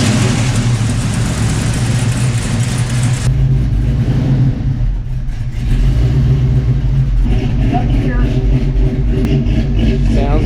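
A car engine with an oil leak cranks, catches and revs hard in a garage, loud and close throughout, its note rising and falling, while people talk over it.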